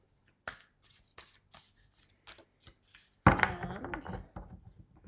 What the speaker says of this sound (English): Let's do a quick shuffle, and we'll pull one card just to, so shuffling this way